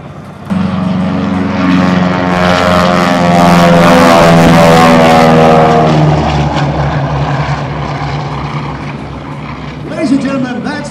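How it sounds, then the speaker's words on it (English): A Douglas DC-3 propeller airliner passes at an air show in Charleston, West Virginia, its radial engines building to a loud, throbbing drone that swells and slowly fades, with a voice heard over it. "The DC-3, originally designed as an airliner"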